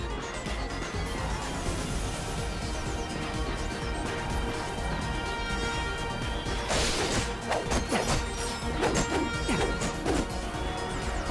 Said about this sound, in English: Let's see how well you can bash these crates.